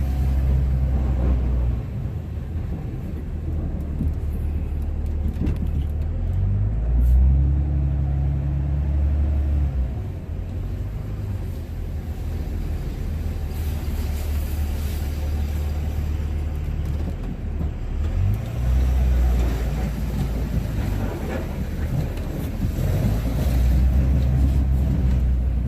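A Dodge Ram Cummins diesel truck plows heavy snow in a back lot, its engine giving a steady low rumble that rises and falls with the work, close and continuous, with no voices.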